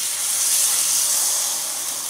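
Steady, dense sizzling hiss of a pulled pork grilled cheese sandwich frying in a hot pan, continuous and fairly loud with no talking.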